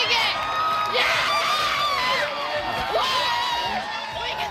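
A crowd cheering and whooping, many voices shouting together in a bright, sustained roar with a few swells, while someone speaks over it.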